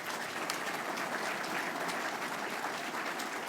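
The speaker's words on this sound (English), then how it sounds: "Would you join me in a round of applause for our sponsors" Sustained audience applause at a luncheon event honouring sponsors, a dense even wash of many hands clapping throughout with no voices over it.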